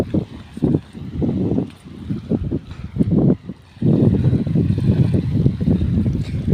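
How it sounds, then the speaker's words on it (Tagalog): Strong beach wind buffets the microphone in loud, gusty bursts, with a low rumble and a brief lull before the gusts return. "kasi mahangin talaga"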